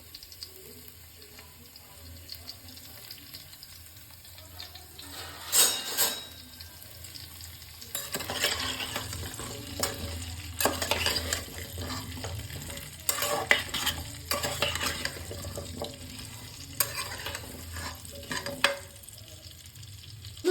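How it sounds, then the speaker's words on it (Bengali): Potatoes for alur dom frying in a pan: a low, steady sizzle broken by bursts of scraping and clattering as a spoon stirs them, close and uneven in rhythm, with stronger strokes later on. "এবার আলুগুলো আমি সামান্য লাল লাল করে ভেজে নেব"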